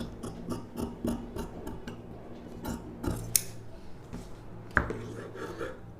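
Scissors cutting blouse fabric around a front neckline, a run of crisp close snips and clicks at an irregular pace, with a couple of sharper louder cuts.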